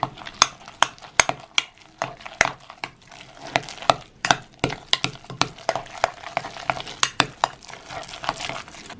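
A utensil stirs beaten egg into a mashed potato croquette mixture in a bowl, with steady, close, rhythmic scraping and clacking strokes and no voice.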